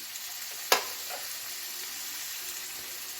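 Food frying in a pan while being stirred with salt and turmeric, a steady faint sizzle with one sharp utensil scrape partway through.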